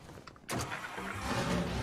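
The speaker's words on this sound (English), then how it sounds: "I wanted to take the Lassiter anyway, so let's take what's probably my favorite car at the moment" Lassiter car engine starting in the Mafia: Definitive Edition game, a brief quiet click then a sudden cranking catch into a steady idle that rises slightly, close and alone.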